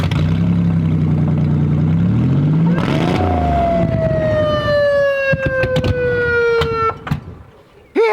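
A modified used police car sounds a loud siren: a rising engine-like tone climbs, then a long wailing tone slowly descends, ending in sharp clicks and a sudden cutoff.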